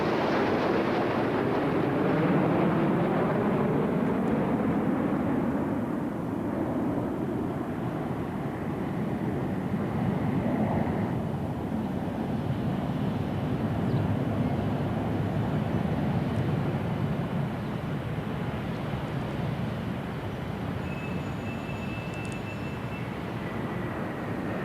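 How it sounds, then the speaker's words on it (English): A large formation of Concorde airliners makes a flypast at Heathrow Airport's 50th anniversary, its deep jet roar sweeping past, loud and sustained, with slowly shifting pitch as the aircraft pass overhead. "This big Concorde formation, which is being flown for the first time"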